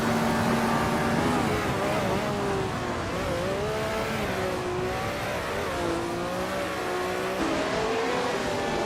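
Race car engines in an AI car racing video game roar steadily and loudly throughout, with rising and falling revving pitch as cars accelerate and shift, a continuous dense engine drone with no talk.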